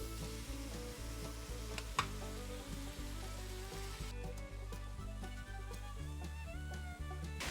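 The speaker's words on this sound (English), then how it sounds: "Dump your meat mixture back into the pot." Ground meat mixture sizzles steadily in a pot of softening onions while chili cooks, a continuous frying hiss beneath rhythmic background music.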